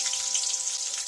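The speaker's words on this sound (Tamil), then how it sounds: "இதோட வெங்காயம் சேர்த்துக்கலாம். வெங்காயமும் பூண்டு சேர்த்துக்கலாம். நல்லா பொரிஞ்சு வரட்டும்." Onion and garlic fry in oil for an okra tamarind curry, a brief, bright, even sizzling hiss heard close up with no other sounds.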